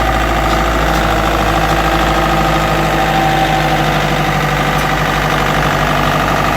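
A Kubota L1 345 tractor's diesel engine runs loudly and steadily up close as it selects a gear to drive off, a deep continuous rumble with mechanical clatter and no voices.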